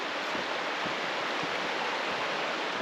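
A river flows under bridges along a morning wilderness hike, a constant broadband rushing of water, steady and fairly close with no voices.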